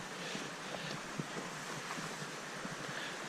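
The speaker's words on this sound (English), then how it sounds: "we're just being serenaded by non-stop waterfalls, streams" Steady rushing water from waterfalls and streams in a cool, moist valley on the Overland Track, heard as a continuous broadband wash with faint splashes and some wind noise on the microphone, no voices.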